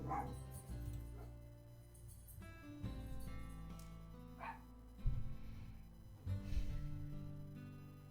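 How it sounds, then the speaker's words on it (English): Dog barking in the visual novel Cinderella Phenomenon, a few short game-audio barks scattered over a steady bed of background music, with no talk. "Dogs just like to randomly bark."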